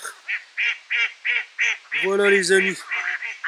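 Ducks quacking and honking repeatedly in a steady series of calls by a riverbank where a fishing rod rests, fairly close, with a louder overlapping burst midway and someone speaking briefly.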